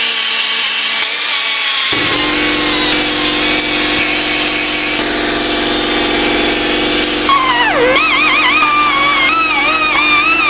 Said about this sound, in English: I'm just using a Scotch-Brite disc here. This is just gonna kind of polish up this hub face.